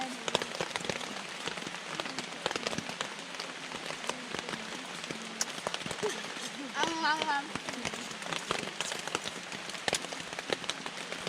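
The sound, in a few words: rain falling on a tent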